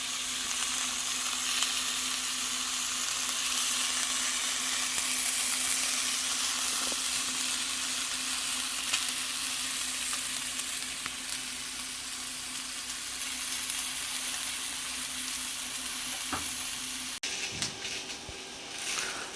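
Hot dogs split down the middle fry in a pan with a steady, dense sizzle that runs throughout, close and moderately loud, with a brief shift near the end; no voices.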